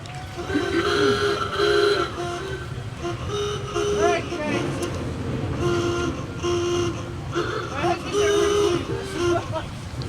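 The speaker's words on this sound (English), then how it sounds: "You know, car horns still sounded like that." Vintage Model A Ford car horns at a Veterans Day parade in Auburn, repeated honks in several bursts from nearby horns over crowd chatter and a voice talking.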